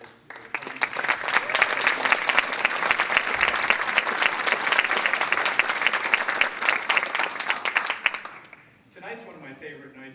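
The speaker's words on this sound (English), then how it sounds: "we have a round of applause for the faculty members who are helping us" A large audience at a college fashion show applauds faculty members with sustained, dense clapping for about eight seconds, fading out before a voice resumes speaking.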